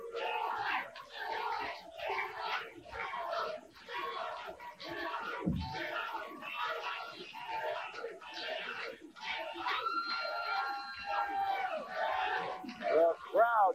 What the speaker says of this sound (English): This is the kind of crowd noise we like to hear.